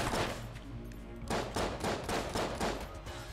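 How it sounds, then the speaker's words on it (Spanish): A rapid burst of gunfire in the video game Enter the Gungeon, several sharp shots in quick succession, then a short pause followed by another rattling volley. "hace un último disparo que es aleatorio"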